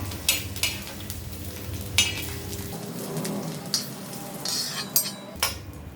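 Fried okra (bhindi) is scooped out of a hot pan on a tawa. A spatula scrapes and clinks against the metal in a few sharp strokes over a continuous, close sizzle.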